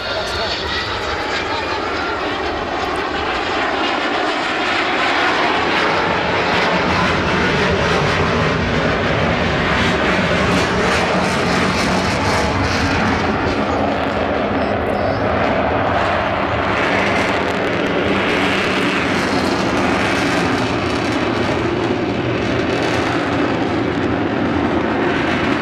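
Avro Vulcan XH558 bomber flying overhead at an air display, a loud, sustained roar of jet engines that rises and swells, broad and rumbling with a hissing edge, steady through the whole stretch.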